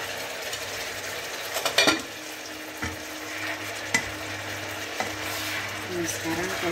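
Chili peppers frying in a covered pan for a black pepper egg dish, a steady sizzle broken by several sharp clinks and scrapes of a utensil against the pan.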